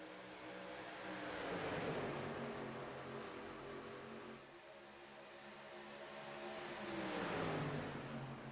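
Racing trucks at Kentucky in a sim racing video game, a steady engine drone from the pack with rising and falling revs as the trucks race, fairly quiet and without talk.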